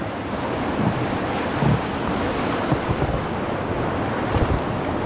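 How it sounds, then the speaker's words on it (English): Rushing river water on the Delaware River during a rafting trip, approaching a big waterfall; a steady, loud broadband roar of churning water and wind buffeting the microphone, with a few thuds, continuous throughout and no speech. "we're coming up to a big waterfall."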